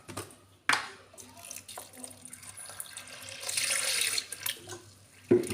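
Tap water running over hulled urad dal being washed in a kitchen: intermittent splashing bursts and a swelling rush of water with a few sharp clatters, fairly close, with no talk.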